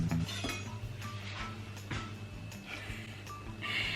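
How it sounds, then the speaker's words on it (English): A kitchen knife chops potatoes on a board in steady, repeated knocks, with faint clinks of utensils and kitchen clatter around them. "I'm going to chop my potatoes in smaller sizes"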